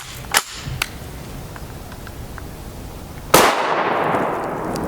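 An FN PS90 short-barreled rifle with a 10.4-inch barrel fires a single loud, close 5.7x28mm shot with a ringing decay, after a few faint clicks of handling.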